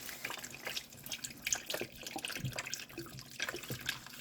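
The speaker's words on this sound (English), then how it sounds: "we're going to go in with that vegetable broth, which is the whole carton." Vegetable broth poured from a whole carton into a pan of browned vegan mushroom meatballs, a steady splashing liquid stream with gurgles and sizzle running throughout at moderate level, no talk.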